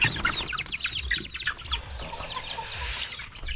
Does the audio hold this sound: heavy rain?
no